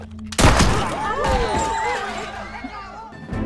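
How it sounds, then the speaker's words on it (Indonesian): Gunfire in an action film scene, a loud sharp blast erupting after a brief quiet, then a busy, chaotic burst of crashing noise and overlapping voices that continues at high level. "Amir bukannya menghukum pria ini, akan tetapi dengan kejam menembak salah seorang warganya"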